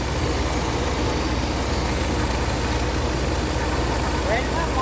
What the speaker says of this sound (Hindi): थोड़ी रेस भी देना है, हल्की सी रेस देना,